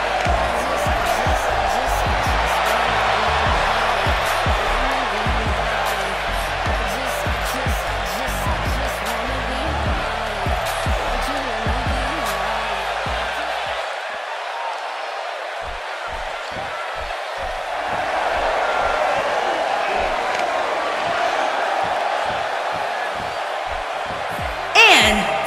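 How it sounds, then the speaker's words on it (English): A wrestling-arena crowd in the video game WWE 2K18 roars continuously with a broad, rumbling wash of noise, swelling slightly near the end, while commentators talk over it. "It sounds to me like this crowd is ready to get this battle royal underway."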